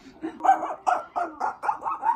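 A person's voice imitates a dog barking in a quick series of about seven sharp, close woofs in an even rhythm, loud enough to startle real animals nearby.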